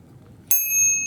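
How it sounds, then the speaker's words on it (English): A small bicycle bell, examined at an RV rally arrival in Quartzsite, gives one sharp bright ding that rings on with a sustained metallic shimmer, close and alone over faint room noise. "Oh, what is this, Pete? This little bell"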